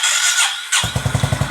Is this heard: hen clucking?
no